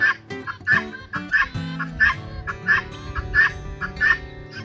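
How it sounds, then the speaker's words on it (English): Repeated chicken calls in a garden ring out at a steady rhythm, roughly every half second, clear and fairly close, with some background noise and no talking. "there's a chicken in the garden"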